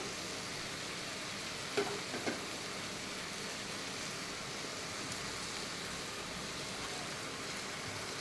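Chicken and coriander cooking in a pan for Malabar biryani produce a constant, even sizzle and hiss throughout, with a couple of faint knocks near the two-second mark.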